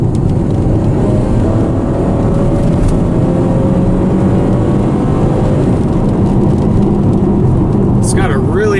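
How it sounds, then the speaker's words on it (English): A 2013 Chevy Camaro with a V6 engine accelerates hard, its deep, throaty exhaust droning loudly and steadily with rising tone, heard from inside the car. "Just lay into the gas and give you a little idea of how this car sounds."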